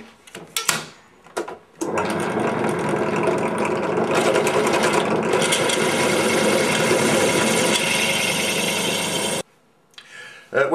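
A drill bores the main hole through the metal arm of a Morse key. A few brief knocks come first, then a steady, loud grinding whir lasts about eight seconds before cutting off abruptly.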